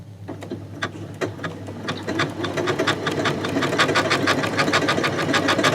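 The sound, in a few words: Janome sewing machine stitching ribbon with ribbon/sequin foot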